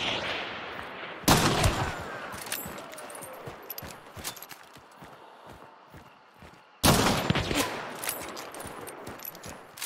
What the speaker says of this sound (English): Probably shotgun, so let's get closer.